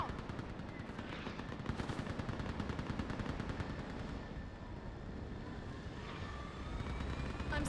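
Rapid machine-gun bursts from a gunship in Mass Effect 3 rattle steadily throughout, dense and loud, with a faint aircraft whine running beneath the firing.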